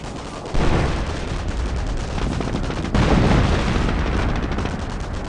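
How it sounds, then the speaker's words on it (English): Air bombardment in the war game Company of Heroes Mobile: dense, heavy rumbling explosions and crackling blasts fill the mix, with a fresh loud wave of impacts midway, continuous and close. "Let's see if I can do another air bombardment."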